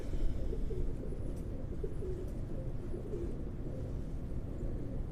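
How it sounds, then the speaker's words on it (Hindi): Soft, low pigeon cooing repeats a few times under a steady, noisy background hum. "ये ब्लैकबेरी मादी है। क्या बात है जी, वो थंडर कबूतर था"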